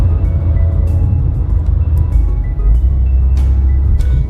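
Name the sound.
Renault 20 car driving, heard from inside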